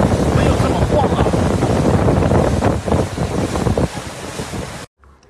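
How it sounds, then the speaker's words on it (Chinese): A small boat rocks on the open sea off Hong Kong, with heavy wind buffeting the microphone and a continuous rush of water and waves up close, loud and unbroken until it suddenly drops away at the end. "坐那种小船在海上面飘来飘去，好没有安全感啊"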